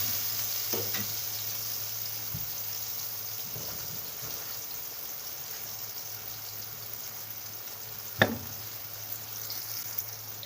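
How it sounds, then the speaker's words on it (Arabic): Chopped onion sautés in a pan with a soft, steady sizzle close by, broken by a few faint stirring scrapes and one brief louder knock. "واحنا كده البصلة تشويحة حلوة، مش عايزين اكتر من كده"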